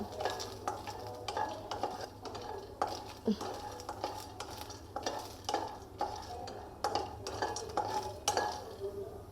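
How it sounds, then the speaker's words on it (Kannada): Grains dry-roasting in a pan for homemade baby cereal, scraped and stirred with a utensil in repeated uneven strokes, close and fairly quiet with faint pan clatter and no talk. "ಇದು ಸ್ವಲ್ಪ ಬ್ರೌನ್ ಕಲರ್ ಬರೋ ತನಕ ಹುರ್ಕೋಬೇಕು."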